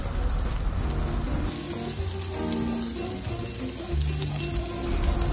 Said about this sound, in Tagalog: Lukulo na ang mantika at ready na tayong mag-gisa. Ilagay ang sibuyas.